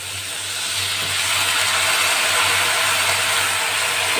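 Water poured into a hot pan of bitter gourd pieces coated with salt and turmeric, giving a loud, steady steaming hiss that swells over the first second and holds alone.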